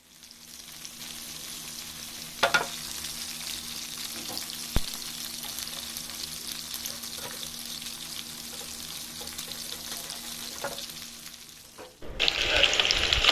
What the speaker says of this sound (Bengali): আমি তেলে ভেজে নিব